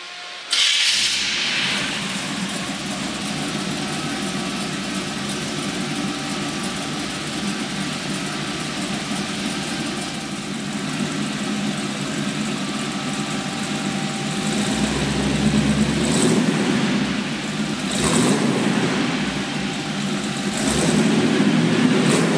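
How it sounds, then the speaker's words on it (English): The hot rod engine of a 1932 Ford Hi-Boy idles loudly and steadily with a rough, deep, lumpy rumble, revving up slightly a few times near the end. "which give the car an authentic hot rod sound"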